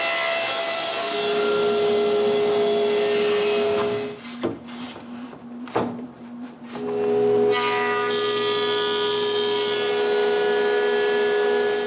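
An angle grinder planes cedar boards, whining loudly and steadily, dipping into rougher grinding and scraping midway before its high whine returns.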